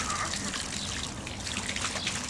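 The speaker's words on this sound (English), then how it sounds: "He likes the water coming out." Steady splashing, trickling water runs continuously at close range from a garden hose, a broad hiss like spraying, with a faint voice now and then underneath.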